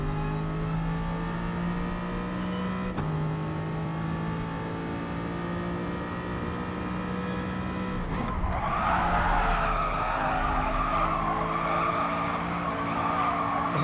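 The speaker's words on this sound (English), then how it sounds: "anytime you hear tyre squeal, you are just losing time" Race car tyres squealing in the GT Sport video game at the Tsukuba circuit, a steady engine drone with a loud, sustained skidding screech rising over it in the latter half, no talking.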